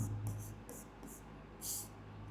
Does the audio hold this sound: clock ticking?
no